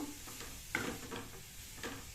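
Poha being stirred into oil and tomato gravy in a pan, soft scraping strokes at irregular intervals over a low, steady sizzle, quiet and close.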